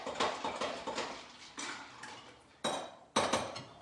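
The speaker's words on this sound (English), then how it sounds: "We're just going to give that a good stir." A metal spoon clinks and scrapes against the inside of a pitcher of sangria, several separate bright clatters stirring the liquid close up and quietly, with no talking.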